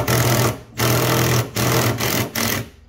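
An impact wrench drives heat-treated 17 mm bolts during repairs on a hairtail fishing boat, firing in several loud, close bursts separated by short pauses.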